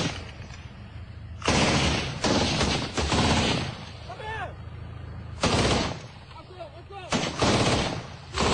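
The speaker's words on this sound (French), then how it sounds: "un coup de feu est tiré dans leur direction" Several loud gunshots crack at irregular intervals, fired toward French Foreign Legion soldiers in Côte d'Ivoire near a light armored vehicle, with voices talking between the shots.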